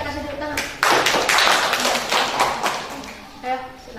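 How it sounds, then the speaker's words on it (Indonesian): A classroom group claps briefly, a short burst of quick hand claps between voices, near and moderately loud. "Oke, kita kasih tepuk tangan."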